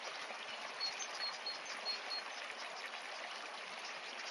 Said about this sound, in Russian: Кто сомневался, что в нашей Таворе есть вода, вот вам, даже водопадик.